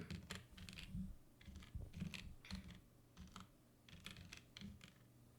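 Computer keyboard typing during a Minecraft session, with irregular bursts of close, crisp key clicks and short pauses between words, alone without speech.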